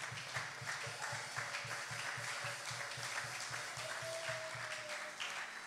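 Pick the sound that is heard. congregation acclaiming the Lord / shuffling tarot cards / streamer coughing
congregation acclaiming the Lord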